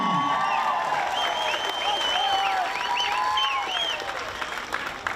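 Crowd applause for a second baseman at a Pacific Mini Games baseball game between CNMI and Palau, sustained and fairly full across the whole stretch with some whistles or shouts, as tonal calls ride above the clapping.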